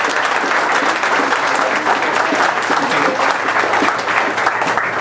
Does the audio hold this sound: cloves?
no